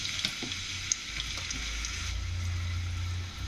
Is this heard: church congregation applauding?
no